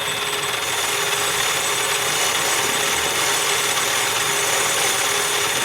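A metal lathe takes a four-thousandths cut with motor oil as cutting fluid, giving a loud, continuous, even grinding whir with a steady high whine, alone and unbroken throughout.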